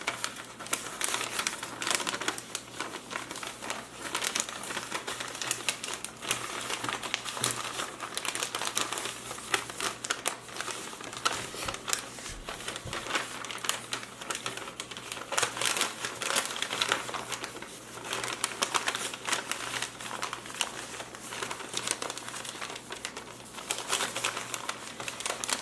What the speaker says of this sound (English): And then I'm going to fold this flat down.